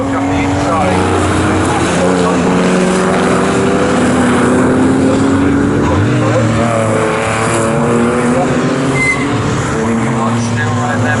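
Porsche race cars in a Porsche Club Championship race at Snetterton howl past with loud, rising and falling engine notes that overlap continuously, while a commentator talks over the racing.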